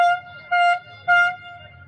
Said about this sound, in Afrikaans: Halftime wat uitgeroep word daar, so jy toeter gehoor het daar.